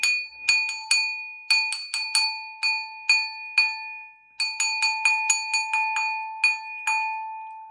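A small bell rings in quick clusters of bright, clear strikes, each tone ringing briefly before the next, with a short pause midway.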